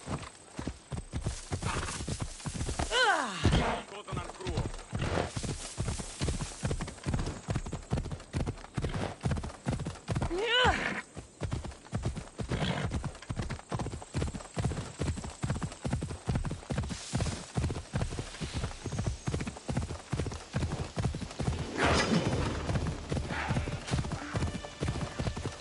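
Horse hooves clip-clop in a steady galloping rhythm throughout, loud and close, in Assassin's Creed Odyssey, with a couple of brief whinnies and faint game sounds underneath.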